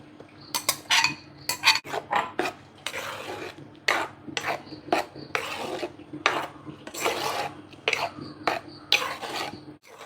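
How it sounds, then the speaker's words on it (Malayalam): Stirring ground paste into boiling beetroot in a pan for pachadi, with a spoon scraping and clinking against the metal in repeated bursts, close and fairly loud, and no talking. "നമുക്ക് അരപ്പ് ചേർത്ത് കൊടുക്കാം"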